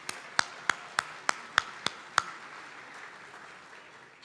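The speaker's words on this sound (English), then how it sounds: "I want you all to give them all a round of applause too." Handclaps at a Tulsa sports charity event: seven crisp, evenly spaced claps close by, then a fading quiet room tone.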